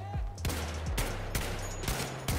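Rapid gunfire in a Battlefield V multiplayer match, several loud sharp bursts of shots in quick succession, close and dominant with no talk.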